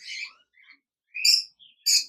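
Shrill, high-pitched cockatiel calls ring out in short bursts, a few sharp chirps separated by brief silences.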